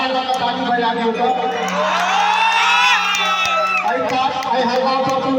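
Crowd of young men at a stage show in Bhatra-Ghat, Bisfi, cheering and shouting with whoops rising to a peak, loud and close, with voices mixed through.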